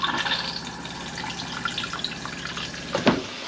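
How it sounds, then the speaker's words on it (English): Water runs steadily into a motorhome cassette toilet bowl, fed from the main water tank, with a sharper gurgling surge near the end as the flap opens and the bowl empties into the cassette. "It's holding water, so you open the flap now and it dumps everything into cassette."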